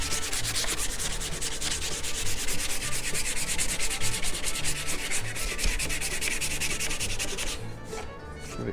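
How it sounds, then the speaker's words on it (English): Steady hand sanding of a carved wooden hatchet with 150 grit sandpaper, a continuous close scratchy rubbing in quick rhythmic strokes that eases off near the end. "I've got some 150 grit sandpaper."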